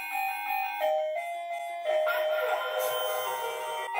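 Electronic alarm clock ringing a bright looping melody of bell-like tones, fairly loud and close, with the tune shifting partway through; background voices murmur faintly.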